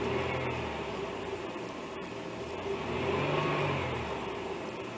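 A car engine idles after its MAF sensor has been cleaned, giving a steady low hum and broad whir with gentle swells in level, heard close and alone.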